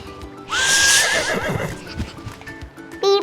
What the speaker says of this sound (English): People ride horses and use them to carry things on farm.